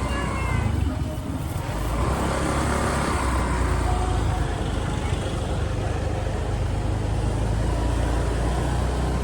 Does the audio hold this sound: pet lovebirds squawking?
no